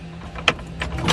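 Car ignition key turned in a vehicle fitted with a B&M Pro Stick shifter and a rewired neutral safety switch; a few short, close key clicks and jangles sound over a low hum, with no engine start.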